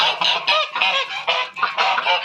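Domestic geese honk on a farm during the breeding season, a loud, close, continuous chorus of harsh overlapping honks with no pause and no talk.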